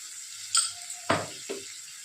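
Mustard-sauce pabda fish with turmeric being sautéed in a pan, three separate clinks and scrapes of a spatula against the pan over a faint steady sizzle.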